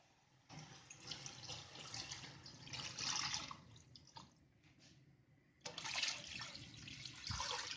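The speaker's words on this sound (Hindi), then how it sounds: "अब इसमें पानी ऐड कर देना है।" Water pours steadily into a pot of chicken kabsa after the spices and tomato paste have been fried, a continuous splashing rush that briefly eases and then surges again, with no talking.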